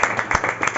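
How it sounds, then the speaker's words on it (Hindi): Hand clapping during a Christian worship service, with several loud, evenly spaced claps in a quick rhythm ringing in a reverberant room. "ताली बजाएंगे खुदा के।"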